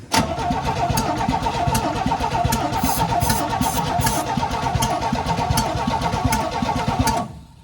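A 1972 Chevy C10 engine being revived runs loud and rough with the throttle open, sputtering and popping irregularly throughout, then cuts off abruptly near the end.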